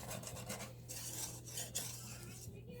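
A spoon stirs homemade chocolate pie filling in a pot on a home stove, a soft continuous scraping and swishing, close and quiet over a steady low hum.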